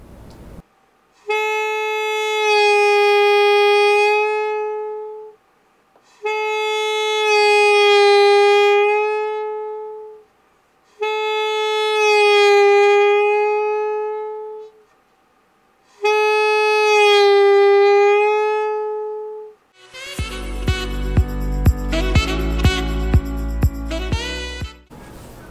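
Saxophone scoop practice: four long sustained notes, each bending down in pitch and back up, separated by short pauses, played alone and loud, followed by a dense burst of accompanied playing at the end.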